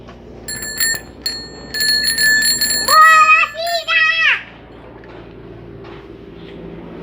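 A bicycle bell rings several times in quick bright dings, close by, with a voice around it and quiet background afterward.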